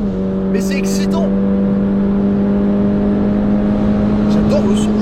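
Toyota GR86 sports car engine pulling from 3000 rpm: a steady, loud tonal hum that holds constant from inside the car, with brief bursts of talking over it at the start and end.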